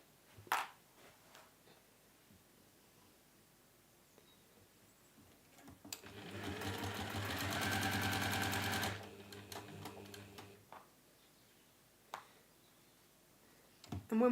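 Sewing machine top stitching down both sides of a fabric pouch's tabs, one steady burst of close, busy stitching lasting a few seconds, framed by quiet workshop clicks and handling noises before and after.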